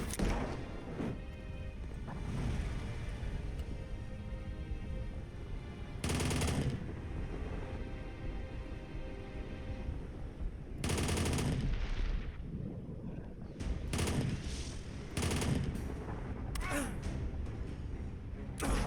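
Gunfire in a WW2 bunker simulator video game, with repeated bursts of loud shots and machine-gun rattle over a constant rumbling game ambience.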